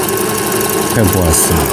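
A repaired Brother GS2700 sewing machine runs an overlock stitch with a steady, close mechanical whirring and rapid needle rhythm while someone speaks briefly over it.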